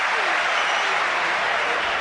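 Football crowd at an Ipswich Town home match against Leicester City, a loud continuous roar of cheering and applause urging the home side on, steady and dense throughout with no gaps.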